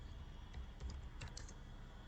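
Keys tapped on a computer keyboard, a few soft, scattered clicks at low volume over faint room hum, with no talking.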